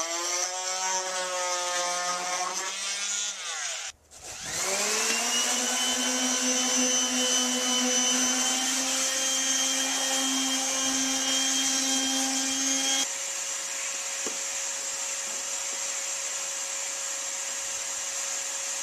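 Oscillating cutoff tool slicing through fiberglass protrusions on a pontoon, a loud steady high-pitched whine with one brief stop and restart, then continuing at a slightly lower pitch to the end.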